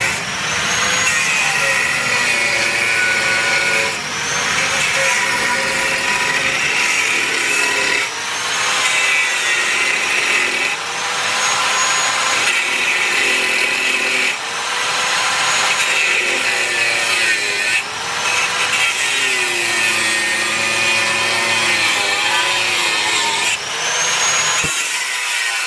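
A saw cuts through a workpiece in a shop, with long, steady, rasping strokes repeating every few seconds. The cutting is loud and close, and no one talks.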